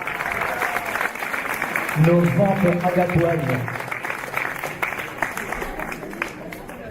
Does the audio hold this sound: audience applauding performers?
yes